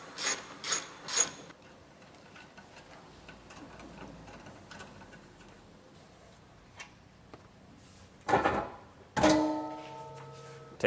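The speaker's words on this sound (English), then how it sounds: "nuts on either side that are holding this factory bumper beam on. We're going to loosen these up." A hand ratchet loosening nuts holding the factory bumper beam on a 2023 Volvo XC60, with short bursts of rapid clicking at the start, quiet stretches, then more close ratcheting and a metallic ring near the end.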